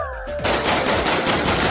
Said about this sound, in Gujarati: દિવાળી ફટાકડા ફોડો ફટાકડા.